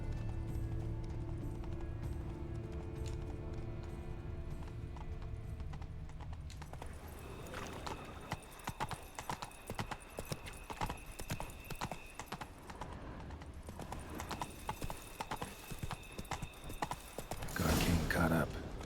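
Horse hooves clip-clop in a steady trotting rhythm in The Witcher 3, with a loud droning rumble at first, then brisk hoofbeats over game ambience and a brief snort near the end.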